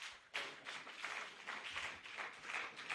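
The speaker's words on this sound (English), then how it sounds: "Let's give him a rounding applause." Audience applause at a Lagos healthcare professionals' annual general meeting and scientific conference, a fairly faint, moderate spread of clapping that begins abruptly after a short quiet moment and carries on steadily with uneven swells.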